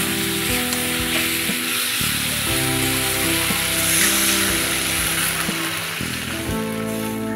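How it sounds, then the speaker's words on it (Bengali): Brinjal curry with hilsa fish frying in a pan with a little added water, giving a steady, loud sizzle that runs unbroken from start to finish, with low hum beneath and no voices. "অল্প করে জল দিয়ে এবার এটাকে ভালো করে কষিয়ে নিই।"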